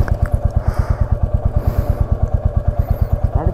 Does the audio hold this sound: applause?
no